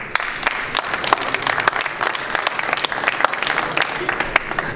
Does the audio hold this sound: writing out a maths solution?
no